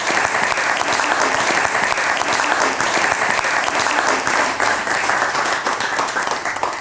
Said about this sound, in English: let's have a big round of applause and bring Carolyn to the stage.